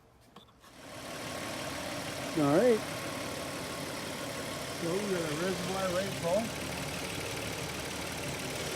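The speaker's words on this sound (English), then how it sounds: "So we'll start the engine and let the water pump do its job." A 2003 Cadillac CTS engine idles steadily after a radiator flush, a low continuous hum beneath someone talking nearby.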